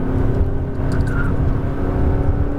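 Car driven hard on a track with a white Lamborghini nearby, steady loud engine drone and whir under throttle, continuous and close with no clear rise in pitch.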